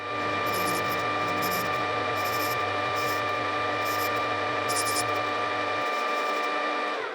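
Metal lathe turning down the outside of a brass padlock part, a steady whining motor drone with bursts of high cutting chatter, close and continuous, the low motor hum dropping away near the end.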